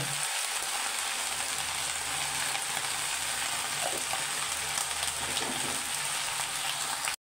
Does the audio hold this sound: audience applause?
no